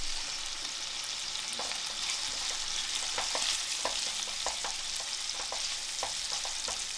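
Bacon frying in a pan gives a steady, bright sizzle with scattered pops and crackles throughout, close and continuous with no talking.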